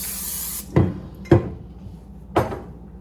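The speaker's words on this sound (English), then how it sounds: "we're going to spray our pan with some good cooking spray so it doesn't stick" Cooking spray hisses briefly onto a baking pan for honey quick bread, followed by three sharp metallic clanks of the pan being handled, close and fairly loud.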